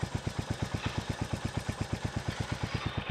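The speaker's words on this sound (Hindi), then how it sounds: "ये आइडल का एग्जॉस्ट साउंड।" A Royal Enfield Hunter 350 motorcycle idles close by, its exhaust giving a steady, even thumping pulse at roughly seven beats per second with a low, mellow tone.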